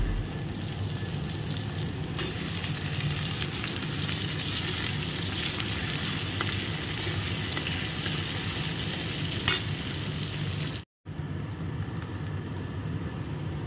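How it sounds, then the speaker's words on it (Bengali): Chopped onions and diced potatoes frying in oil left over from frying fish, a continuous close sizzle with occasional stirring scrapes and a momentary dropout near the end. "ওই মাছ ভাজা তেলের মধ্যে কিন্তু তোমার পেঁয়াজটাকে ভাজছি। ভাজতে ভাজতে এর মধ্যে দিয়ে দেবো হচ্ছে ডুমো করে কেটে রাখা আলুগুলো।"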